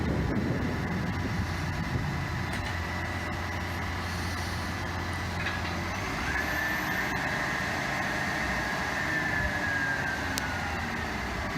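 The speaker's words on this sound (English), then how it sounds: "The auger's going back in the hole. We're going to give it another dig." A truck-mounted auger boring a hole for a power pole at a bus shop: a loud, steady mechanical drone with deep engine rumble throughout, and a thin rising whine partway through.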